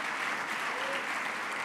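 Conference audience at Bloomberg CityLab applauding after a dance performance, a brief steady burst of many hands clapping at moderate loudness.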